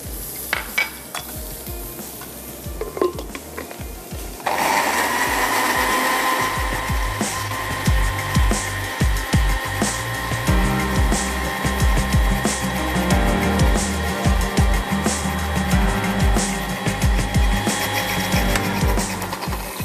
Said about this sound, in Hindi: चलो सॉस को मैं ब्लेंड कर लेती हूँ।